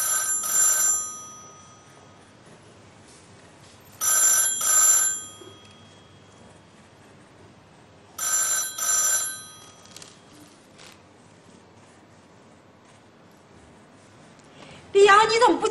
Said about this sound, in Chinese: 你怎么不接电话呀？